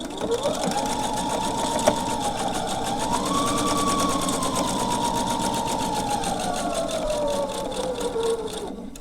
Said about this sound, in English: I'm going to sew on the other side of that marked line.